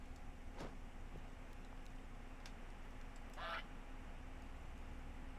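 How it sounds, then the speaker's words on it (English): A cartoon-style duck quacks from a television in the Moth House game, a short raspy burst midway through over a steady low electrical hum, with a couple of fainter clicks earlier. "There's just a TV with a duck on it."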